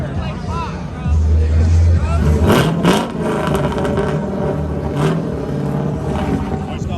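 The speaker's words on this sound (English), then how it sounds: "We got the Crown Vic rolling up." A Ford Crown Victoria with Mustang wheels rolls up at a car show, its engine revving loudly and close, with crowd chatter and talking over the rumble.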